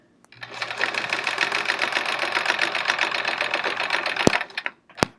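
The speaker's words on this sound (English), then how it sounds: "I do have to actually run the sewing machine yet." A sewing machine fitted with a quilting foot runs steadily for about four seconds at close range, a continuous mechanical whir that stops abruptly, followed by a couple of sharp clicks.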